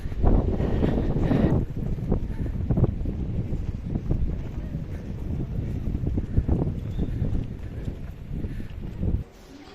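Strong gusts of sea wind buffet the microphone in a steady rumbling roar near the Hassan II Mosque in Casablanca, with a fainter background wash, no voices.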